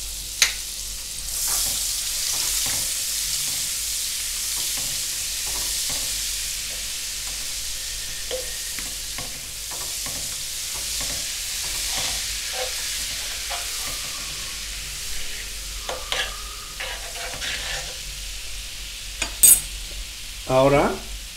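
Butter sizzling steadily in a hot pan with beef and vegetables, a continuous crackling fry broken by occasional stirring clatter and sharper pops near the end, close and fairly loud with no talking.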